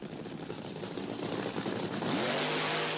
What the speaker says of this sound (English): Stilton burns out in the near lane, and they're ready for the race.